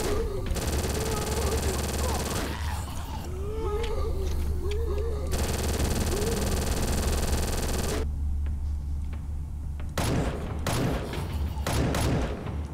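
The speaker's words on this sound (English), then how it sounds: "Think we're gonna need the Uzi for this." Rapid automatic Uzi gunfire in the Game Guru video game, long sustained bursts separated by short gaps, loud and close, followed by a few sharper single shots near the end.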